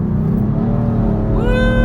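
Sports car engine revving hard at Road Atlanta, a loud steady roar close by that climbs in pitch toward the end of the short burst.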